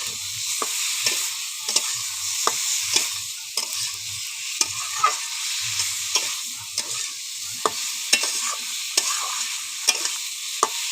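Eggplant curry sizzles steadily in a pan while a spoon stirs it, each scraping stroke clicking in a regular rhythm over the constant hiss of the frying oil.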